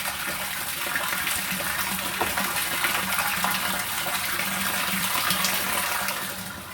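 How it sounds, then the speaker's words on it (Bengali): Fresh water flows steadily from a home water filter after its automatic shut-off, a continuous close gushing stream that holds for several seconds before easing slightly. "অটোমেটিক বন্ধ হয়ে গেছে আর এখানে এখন ফ্রেশ জলটা কিন্তু আসবে"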